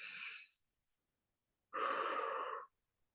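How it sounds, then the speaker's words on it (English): A person breathes in deeply during a relaxation tapping session, two close breath sounds separated by a pause, soft and intimate. "So taking a big breath in."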